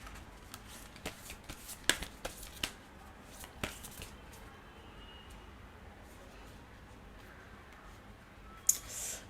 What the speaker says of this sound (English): I feel like pulling out like one more card from this.